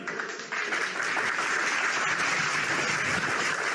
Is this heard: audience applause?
yes